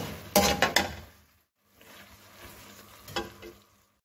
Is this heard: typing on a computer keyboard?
no